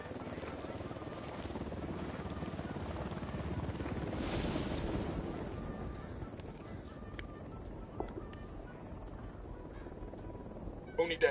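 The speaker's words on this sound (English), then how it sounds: "We got a chopper to pop." Helicopter in a cartel snatch-and-grab mission game, a continuous rotor thrum and engine roar that swells midway then fades, with faint clicks and a sharp noise at the end.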